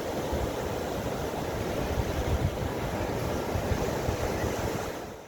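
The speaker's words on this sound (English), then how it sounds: "The sound of waves" Ocean waves wash steadily onto a beach in a continuous, full rushing roar with gentle surges and slight wind noise, close and loud throughout, with no voices.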